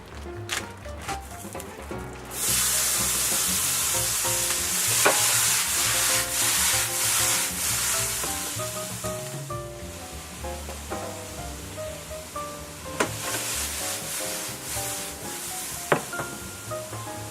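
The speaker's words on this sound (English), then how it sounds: "I pull my veggies out of the sous vide, and I'm going to sear them in the same pan" Vegetables searing in a hot pan, seasoned with Cajun seasoning, sizzle steadily and loudly up close, with stirring and scraping scattered through.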